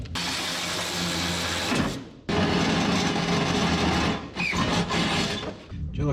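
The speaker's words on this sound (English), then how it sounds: "Drill a couple holes." Power drill boring holes in the fenderwell area of a 1976 GMC truck, a loud continuous whir that breaks off briefly near two seconds, then resumes and sags a few times.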